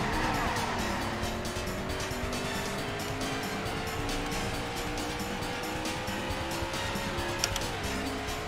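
A race car in the Daytona USA arcade racing game keeps up a loud, continuous engine drone whose pitch rises and falls with the driving, with faint tire squeal mixed in.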